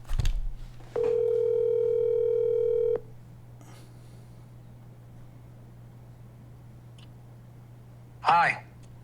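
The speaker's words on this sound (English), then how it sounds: "I'm going to phone a friend" A telephone dial tone while calling a friend: a steady two-second tone held at an even level, followed by quieter hum and a short rising chirp near the end.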